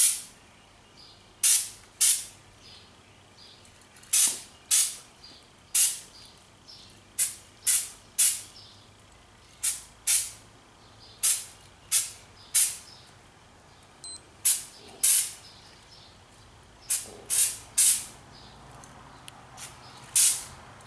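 Primer being sprayed lightly onto a coal miner's hat, repeated short sharp hisses of an aerosol can in bursts of one or two, close and loud with quiet gaps between.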